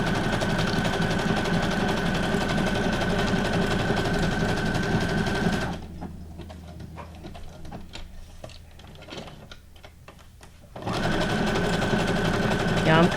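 A sewing machine stitching stitch number 19 on scrap-paper journal cards runs with a steady close whir, pauses for several seconds while a voice talks, then starts again at speed.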